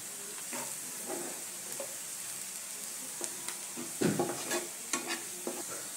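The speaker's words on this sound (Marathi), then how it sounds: "आता हे मसाले चांगले परतले गेले आहेत" Chopped onion and spices (salt, turmeric, chili powder) fry in oil for a vegetable dish, giving a faint steady sizzle broken by several scraping stirs of a spoon in the pan, the loudest around the middle, with no talking.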